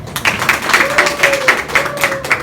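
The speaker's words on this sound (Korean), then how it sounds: "큰 박수 부탁드리겠습니다." Audience clapping in a regular beat to welcome a lecturer at an evening business meeting, with a sustained tone carrying through the claps.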